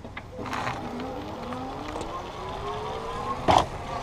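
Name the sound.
EG Zurich 350 IX electric bike accelerating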